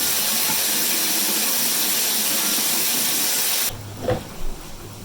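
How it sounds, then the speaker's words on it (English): Hot tap water runs in a steady, loud broadband hiss over a kitten's milk bottle, then cuts off abruptly, leaving a couple of faint clinks and handling sounds. "I'm just running some hot water over it to get it nice and warm"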